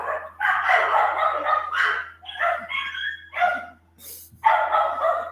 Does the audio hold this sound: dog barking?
yes